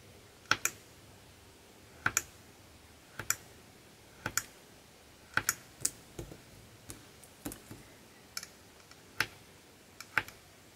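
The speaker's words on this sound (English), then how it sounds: "So I've just chopped off some pieces there" A blade slicing through polymer clay on a hard surface, giving a series of light, sharp clicks and taps, mostly in pairs, spaced a second or so apart, quiet and close with no talking.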